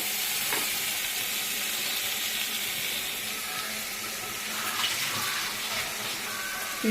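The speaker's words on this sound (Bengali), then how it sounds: "জল দিয়ে নিই আগে। জল দিয়ে দিলাম।" Water is poured into a hot pan where pabda fish is frying in oil for a curry, giving a steady, close, loud sizzling hiss that holds evenly with faint bubbling crackles and no voices.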